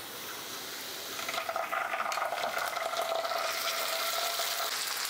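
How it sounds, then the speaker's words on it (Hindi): Onions with a spoonful of ginger-garlic paste fry in a pan for fish curry, a soft hiss that jumps into a busier, crackling sizzle with stirring scrapes, close and steady with no talking. "प्याज का कलर जैसे चेंज हो जाए हम डालेंगे 1 चम्मच अदरक और लहसुन का पेस्ट"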